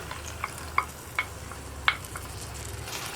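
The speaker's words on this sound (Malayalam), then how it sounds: "ഞാനിപ്പോൾ മിക്സ് ചെയ്ത് നോക്കുകയാണ്." A spoon stirs egg roast gravy in a pan, giving a few scattered scraping clicks over a faint background simmer, close and fairly quiet with no voices.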